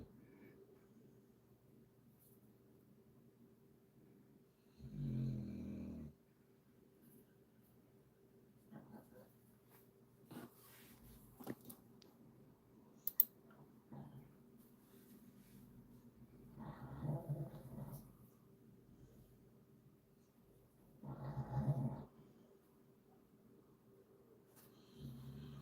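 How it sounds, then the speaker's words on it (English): A dog snoring nearby, slow, separate snores a few seconds apart, low and rumbling, with faint clicks and quiet room noise in the gaps between them. "The dog is proper snoring."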